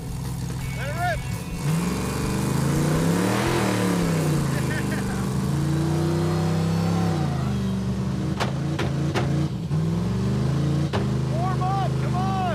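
Off-road race truck engine revving loudly up close, rising and falling through several throttle blips with a deep rumbling tone, while people talk and shout over it.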